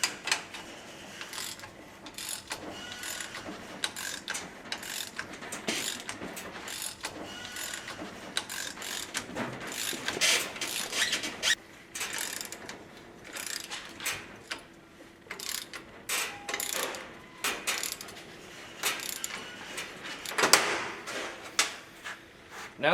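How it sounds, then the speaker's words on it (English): A ratchet wrench cranks to compress a spring, giving irregular bursts of close, gritty clicking and metallic creaks that come and go with brief pauses over a long stretch. "Now start wrenching."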